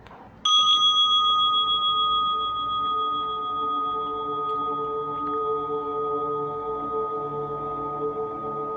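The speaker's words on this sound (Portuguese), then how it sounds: "A meditação inicia com o toque de um sino e termina com 3 sinos." A single meditation bell is struck once and rings out with a clear, sustained tone that slowly fades, heard alone in a quiet room.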